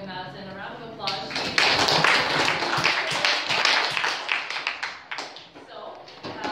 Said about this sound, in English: everybody should give Madison a round of applause.